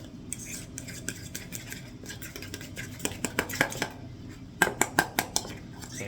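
Whisked eggs and pecorino romano being mixed for carbonara, a utensil clinking and scraping rhythmically against a bowl, sparse at first then quicker, closer and louder strokes toward the end.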